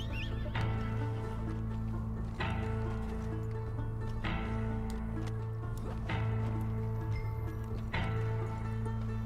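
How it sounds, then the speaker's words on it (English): A horse in the Red Dead Online video game, with repeated loud neighs and whinnies over clip-clopping hooves and a steady low musical drone, no talk. "When my horse comes"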